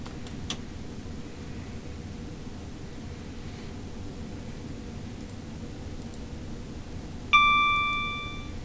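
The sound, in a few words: AWS bell for green signal in Train Sim World video game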